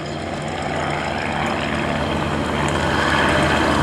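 A Van's RV8 propeller plane's engine drones steadily through an aerobatic display, a loud continuous roar that slowly swells without breaks.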